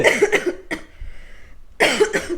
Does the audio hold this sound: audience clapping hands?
no